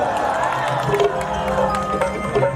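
A live stage-show crowd in a Bihar-region village cheers and claps, a dense continuous roar of voices with scattered whoops and clapping throughout, loud and close.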